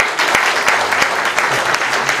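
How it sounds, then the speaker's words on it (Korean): Steady applause from the audience at a campaign office opening ceremony in Icheon, Korea, dense and continuous clapping with faint voices underneath throughout. "우리 전현아 회장님 다시 한번 큰 박수 부탁드리겠습니다."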